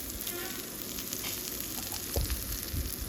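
Small shallots, asafoetida, curry leaves and dried chilies sizzle in hot oil for a tempering, a steady close crackling fry with occasional soft stirring bumps.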